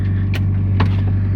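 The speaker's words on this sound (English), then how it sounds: "I won't be recording as much in this car because it's loud" Inside a car, a loud constant low engine drone fills the cabin with a steady hum, broken by a couple of brief faint rustles or knocks, no talking.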